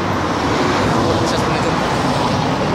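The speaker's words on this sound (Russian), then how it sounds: "такой шум от машин" Dense car traffic on a Moscow street makes a loud, continuous roadway roar that stays close and unbroken throughout, a broadband wash of engines and tires.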